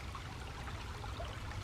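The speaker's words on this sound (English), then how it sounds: "there's a bunch of waterfalls" Several small waterfalls spill over rocks in a steady, faint rush of flowing water, continuous and even throughout, with no voices.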